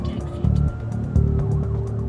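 An ambulance siren wails loud and close in a rising and falling tone over a rumbling vehicle engine, with no talking.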